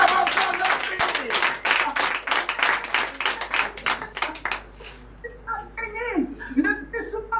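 A church congregation at a French-language morning prayer service bursts into dense clapping and cheering for several seconds, then the clapping thins into scattered laughter and voices.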